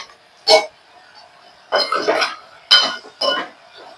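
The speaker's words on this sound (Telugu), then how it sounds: "ఇప్పుడు మూత మూసేసుకుందాము" Metal lid clatters onto a cooking pot of drumstick sambar in a home kitchen, four sharp close clinks and rattles spaced over a few seconds, with no voices.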